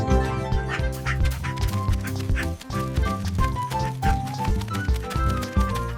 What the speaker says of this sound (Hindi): ये देखो डॉग। डॉग को हिंदी में कुत्ता कहते हैं।